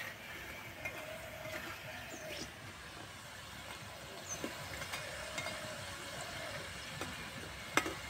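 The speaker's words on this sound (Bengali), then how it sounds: "হালকা লাল করে ভেজে নেব।" Palm fruit dudh bora frying in hot oil until lightly reddened, a faint steady sizzle with soft bubbling and occasional small pops and clinks, heard close and alone.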